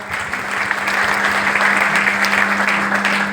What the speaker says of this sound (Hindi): तालियां जो कवियों के लिए बजाए उससे थोड़ी सी ज्यादा चाहूंगा